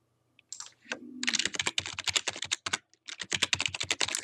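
Someone types on a computer keyboard in rapid bursts of close, crisp key clicks, broken by a brief pause, with a short electronic tone near the start.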